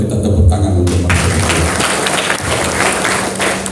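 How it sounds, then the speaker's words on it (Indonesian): A workshop audience at a Dayak customary council meeting bursts into applause for two speakers, loud, close clapping that holds steady for several seconds after a few initial taps and thumps. "boleh kita tepuk tangan untuk mereka"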